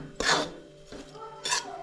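Makhana (fox nuts) stirred in ghee in a pan, two short scraping, rasping strokes against the metal, close by, with a quieter stretch between them.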